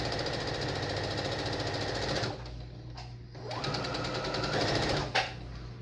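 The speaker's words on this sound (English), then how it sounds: "so that my sewing machine doesn't have to go through 4 layers, just 2 thin layers" A sewing machine runs in steady rapid stitching bursts through two thin layers of fabric, pausing briefly twice before starting again, close and fairly loud with no voices.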